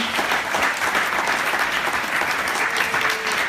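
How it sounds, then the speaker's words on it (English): An audience claps for an astronaut at the Kennedy Space Center Visitor Complex, a dense, steady wash of applause that stays loud for several seconds, with no talking over it. "Round of applause for astronaut Tom Jones"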